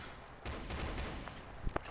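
Gunfire in a Roblox police gun battle, a quick flurry of distant-sounding shots with a couple of sharper cracks near the end.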